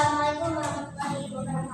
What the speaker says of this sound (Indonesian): Sekali lagi kasih tepuk tangan.